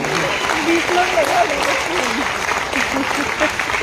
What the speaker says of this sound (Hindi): इसके तो तालियां थोड़ा ज्यादा होनी चाहिए।